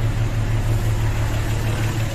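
A tractor engine runs steadily, a deep continuous rumbling drone with no change in pace, close and fairly loud, heard alone without voices.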